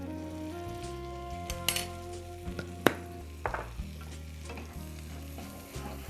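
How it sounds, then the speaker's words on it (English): A spoon scrapes and clinks steadily around a pan as all-purpose flour is stirred into melted butter, with a soft continuous sizzle underneath and no talking. "We'll just stir"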